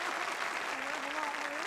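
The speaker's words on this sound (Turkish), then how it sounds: "Güzel bir canlı alkış rica edeyim." Live studio audience at a 1994 Turkish TV variety show giving steady, dense applause, with a voice speaking over the clapping.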